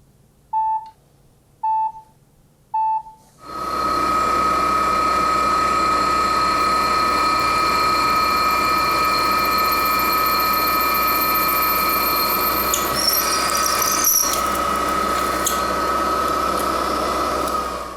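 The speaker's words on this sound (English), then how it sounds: "drill and counterbore a hole to mount the specimen or to mount the force gauge" A drill bores and counterbores a hole in metal for a homemade tensile tester, a loud steady machine whine running continuously after three short electronic beeps.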